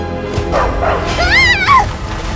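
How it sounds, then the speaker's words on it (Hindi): A dog barking and yelping inside a house, several short whining, pitch-sliding yips in quick succession, fairly close and loud over a steady background. "कभी अचानक से घर में कुत्ता घुस आता है"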